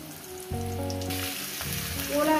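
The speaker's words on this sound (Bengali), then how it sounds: "এবার এটাকে সুন্দর করে ভেজে নেব।" Arum root and potatoes frying in a pan seasoned with cumin and turmeric, a loud, steady close sizzle that rises after they hit the hot oil, with no talk.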